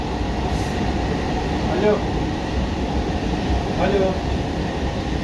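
The JFK AirTrain from Terminal 8 toward Jamaica Station rolls along its rails with a steady, loud, continuous rumble and two faint squeals, while someone briefly speaks over it.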